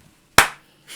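A single sharp hand clap rings out close and loud, then fades quickly, followed by a fainter shuffling sound near the end, with no talking.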